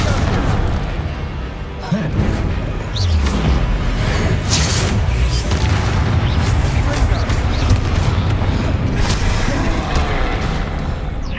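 Confringo and Bombarda spells from a Hogwarts Legacy fight go off as repeated booming blasts and crackling impacts in dense, overlapping bursts, loud and continuous.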